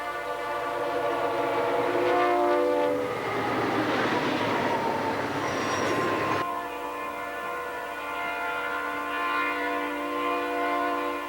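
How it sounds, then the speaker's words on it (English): A double-stacked container freight train rolls past up close with a loud, steady rumble. A sustained, harmonic horn-like tone runs throughout and shifts partway through. "Here's another double-stacked train."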